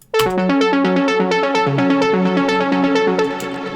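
Trance lead from the Synth 1 plugin, processed with reverb, delay and saturation, playing a fast rhythmic pattern of bright chordal notes over a moving bass. It enters sharply, stays loud throughout and has a washed tail, with no voices.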